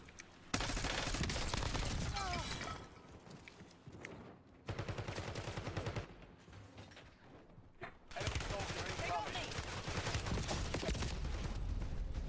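Bursts of automatic gunfire in Warzone, long loud rattling volleys broken by short pauses, close and dominant, with a quieter stretch between the second and third bursts.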